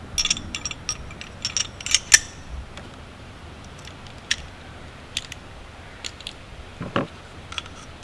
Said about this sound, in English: Release the hammer, flick it straight down, and it just comes right apart.